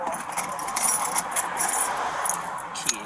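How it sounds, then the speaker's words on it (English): A bunch of keys jingles and clinks in short, bright metallic bursts, handled up close in several brief flurries over a faint background. "Keys."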